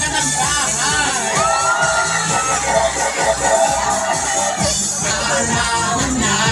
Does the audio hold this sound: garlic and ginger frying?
no